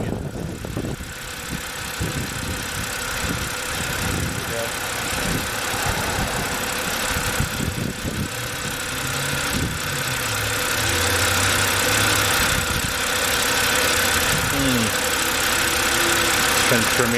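A 2007 BMW 328xi E90 idles roughly as if about to stall, its low engine rumble wavering and surging unevenly for the whole stretch.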